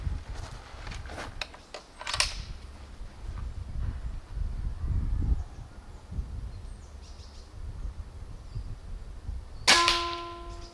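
A bullpup air rifle fires at a target, giving a few sharp, short cracks spread far apart with a brief metallic ring at the end, set against quiet outdoor background noise.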